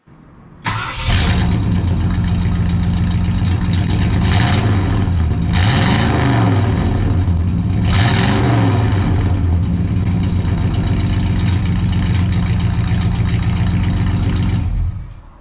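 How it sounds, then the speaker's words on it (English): Several classic Ford cars run in a garage, a steady engine idle with a few rising revs, loud and close, with no talk. "let's go ahead and get some clips of these cars running for you guys."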